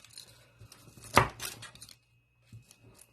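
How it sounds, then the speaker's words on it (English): A knife presses down through firm fudge onto a board with one sharp crunching cut, followed by softer scraping and quiet sliding sounds. "let me get a knife and cut it up"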